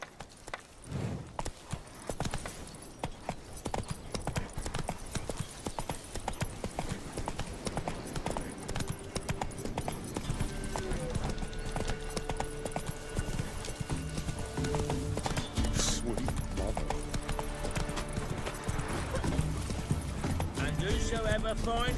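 Horse hooves clip-clopping in The Witcher 3, a steady rhythmic gallop that builds and runs nearly throughout, with an occasional whinny, game music and a player talking over it.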